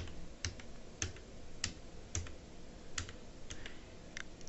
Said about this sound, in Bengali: সাপোজ আমি এখানে লিখে দিচ্ছি